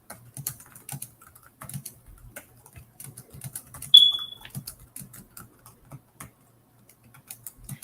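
Someone types quickly on a laptop keyboard, with soft, close, irregular key clicks in bursts and short pauses, and a thin electronic beep partway through.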